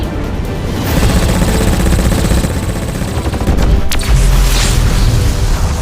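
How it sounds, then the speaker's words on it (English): A cannon in a video game trailer fires a rapid string of heavy booming blasts, loud and dense, with a sharp crack near the end and no speech. "let's see what this cannon can really do for a proper big finish"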